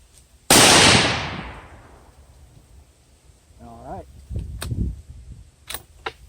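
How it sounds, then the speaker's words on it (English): A Howa rifle fires a single round during barrel break-in, a sharp, loud crack near the start that rings out and decays over a couple of seconds, followed by quieter metallic clicks and handling noise of the bolt. "Now, we're ready to load up another round in the chamber and fire."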